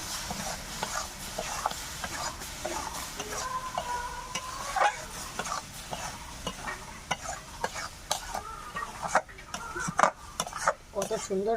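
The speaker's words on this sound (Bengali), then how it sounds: "এখানে মিক্স করা আমটা অল্প অল্প করে দেবো আর নাড়তে থাকবো" Mango pulp being stirred into bubbling sugar caramel in a pan, with steady sizzling and repeated spoon scrapes against the metal, close and fairly loud throughout, no speech.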